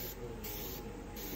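Light coats of paint hiss from a spray can onto a stencil on a Willys MB vehicle, a steady close spray running throughout with brief dips between passes.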